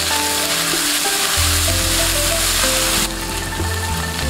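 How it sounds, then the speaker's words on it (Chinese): Minced meat stir-fried in hot oil with ginger, garlic and small red chilies, a loud, dense sizzle with rustling stirring strokes that continue steadily throughout. "油热下入肉末，把肉末炒干水分，炒至变色，然后倒入姜蒜、小米辣"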